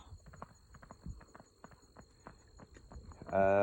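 Hooves of a 15-year-old quarter horse gelding, about 15.1 hands, clip-clop in a steady walking rhythm, faint and moderately close, ending with a sudden loud burst of noise.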